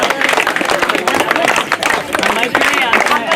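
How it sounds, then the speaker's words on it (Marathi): An audience claps loudly at a school alumni gathering, a dense burst of applause running steadily throughout with crowd murmur underneath. "टाळ्या वाजवा मारे टाळ्या वाजवा जोरात आर्यन"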